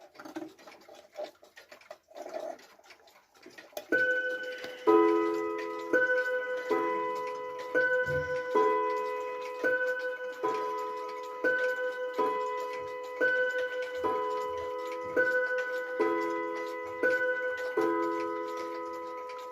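A 1960s or 1970s clock with a built-in speaker, activated by a silencer control, gives a steady repeating pattern of soft electronic tick tones after a moment of handling noise, fairly quiet and alone.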